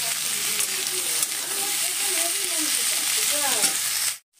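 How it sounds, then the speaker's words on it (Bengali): Mixed vegetables seasoned with chilli, turmeric and salt fry in a pan with a loud, continuous close sizzle while a voice talks over it, and the sound cuts off abruptly at the end. "সমস্ত সবজি আমার সুন্দর ভাজা ভাজা হয়ে গেছে"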